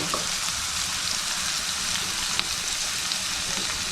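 Chicken pieces already dusted with pepper powder sautéing lightly in a pan on the stove, a steady close soft sizzle that holds evenly throughout with a faint stir or clink midway.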